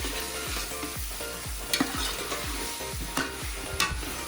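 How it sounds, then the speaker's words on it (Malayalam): Chicken cooking in oil over a low flame as it is stirred, with a steady close sizzle under regular rhythmic scraping strokes about every half second and a few sharper clinks of the utensil. "ഇത് അടിയിൽ പിടിക്കാതിരിക്കാൻ വേണ്ടിയിട്ട് ഇടയ്ക്ക് ഇങ്ങനെ ഇളക്കി കൊടുത്താൽ മതി."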